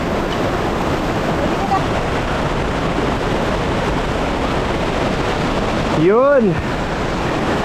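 The roar of Pagsanjan Falls in Laguna, Philippines, a dense, continuous rushing wash at high level, with a brief shouted voice rising over it near the end.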